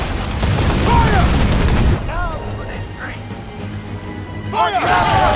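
Cannon fire in Assassin's Creed 4 Black Flag at sea, heavy booms and blasts rumbling under shouting voices, with sharp bursts near the start and again at the end.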